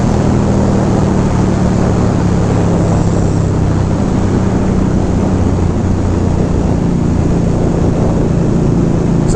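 An Indian Scout Bobber motorcycle rides along with a steady, loud engine drone under heavy wind rush, constant throughout and no talking.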